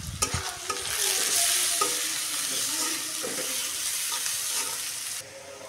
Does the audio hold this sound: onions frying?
yes